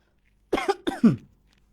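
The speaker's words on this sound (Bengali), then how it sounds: "কাশি হচ্ছে আজকে বহুত।" A few quick, close coughs in a short burst, loud and dry, alone in an otherwise quiet room.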